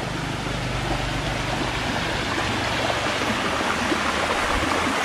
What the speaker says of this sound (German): Schöner, natürlicher, kleiner Flusslauf.